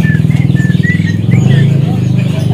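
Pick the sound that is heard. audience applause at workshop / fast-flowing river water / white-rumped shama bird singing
white-rumped shama bird singing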